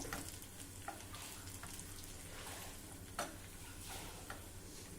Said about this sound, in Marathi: हा लसूण थोडा तांबूस होईपर्यंत आपल्याला परतून घ्यायचा आहे